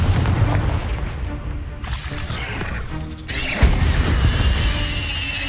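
A Confringo fire spell blasts in Hogwarts Legacy, a booming explosive impact with a sharp crack about midway followed by a sustained rumbling roar that fills the whole stretch.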